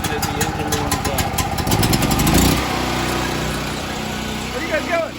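A DuroMax generator engine in a 1948 Chevrolet Dubl Duti setup kicks into a loud, rough mechanical roar, then settles into a steady running drone.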